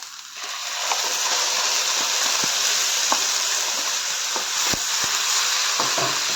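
Ground spice paste hits sautéing ivy gourd in a pan for kichadi, giving a steady, fairly loud sizzle with a few light stirring clicks and no talk.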